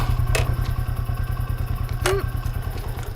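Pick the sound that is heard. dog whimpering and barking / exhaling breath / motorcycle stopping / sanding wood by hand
motorcycle stopping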